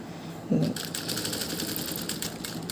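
A hand-cranked sewing machine with a single presser foot stitches steadily, a dense continuous mechanical rattle that starts with a brief knock and runs close and moderately loud.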